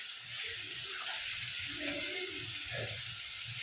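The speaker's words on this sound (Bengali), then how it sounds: "মশলাটাকে আমি কিছুক্ষণ কষিয়ে নিচ্ছি।" Masala spices frying in hot oil for a watermelon-rind and potato curry give a steady, close sizzle and hiss that runs unbroken throughout, with faint pan noises underneath.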